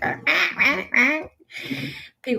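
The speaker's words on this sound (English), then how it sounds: "You've heard the birds outside of my house, and they don't sound like they're real" Loud, close duck-like quacking calls from birds outside a house, in quick bursts, a few in a row, then a pause and more quacks.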